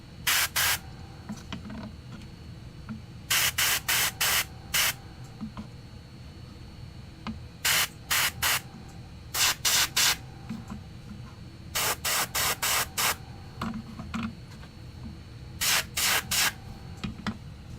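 An airbrush sprays paint onto Warhammer 40k Tau Stealth Suit miniatures in short repeated bursts of close hissing, each group of quick pulses separated by brief pauses over a low room hum.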